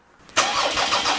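Starter motor of a car plugged in for eight hours cranks hard at -30°C, a loud, steady whirring churn that starts abruptly and keeps grinding without the engine catching.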